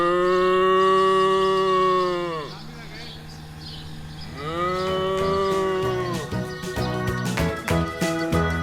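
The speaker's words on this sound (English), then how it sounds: "I can see some cows over here." Several cattle moo loudly on a farm, long drawn-out calls close to the microphone with a pause between them, followed by a burst of clattering knocks and jingling near the end.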